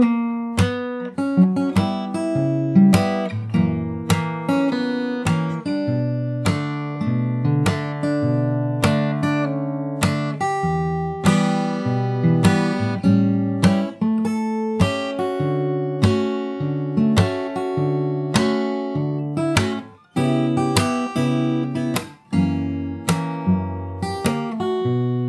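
A fingerstyle guitar plays the chorus of a jazz standard, plucked chords and melody notes ringing out clearly and close, alone and unaccompanied, with a brief gap near the end.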